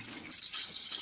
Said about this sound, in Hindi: पानी और भर देते हैं।